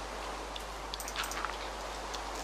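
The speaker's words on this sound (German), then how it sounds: "ich hasse Regen. Kann man das nicht abstellen?" Rain in the video game Minecraft gives a soft, continuous hiss with faint scattered drop patters over a low steady hum, quiet and heard without talking.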